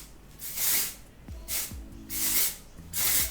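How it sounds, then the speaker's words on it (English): Bumble and Bumble Thickening Dry Spun Finish Spray hisses onto hair from an aerosol can in four or five short bursts, close up, with soft rustling between sprays. "This one is the Bumble and Bumble Thickening Dry Spun Finish Spray"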